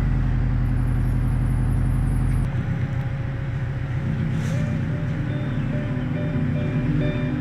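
Subaru Baja driving with its engine running rich, a steady low rumble holding throughout, slightly rougher after the first couple of seconds, with no talk over it.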